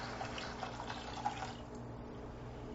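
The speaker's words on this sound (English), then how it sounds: "We'll add water" Water pouring into a soup pot as 2½ cups go in over chicken base, a steady moderate splashing stream running unbroken and close by, with no talk over it.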